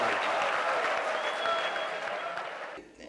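Audience applause at an Urdu mushaira poetry gathering, a dense, steady crowd clapping that fills the room and fades out near the end.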